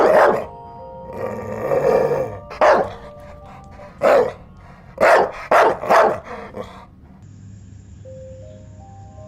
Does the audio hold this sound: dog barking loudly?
yes